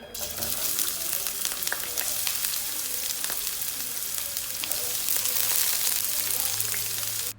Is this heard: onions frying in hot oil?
yes